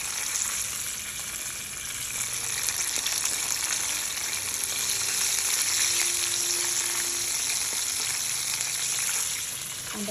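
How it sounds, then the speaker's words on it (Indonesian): Chicken thighs deep-fry in hot oil, making a loud, steady crackling sizzle that runs unbroken throughout with no voices. "ini paha ayam gorengnya udah matang, dan sekarang saya mau angkat"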